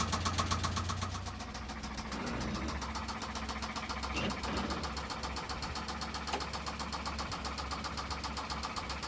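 A car engine with a spun rod bearing idles with a steady, rough mechanical running sound and a faint rhythmic knock, heard from nearby at moderate volume.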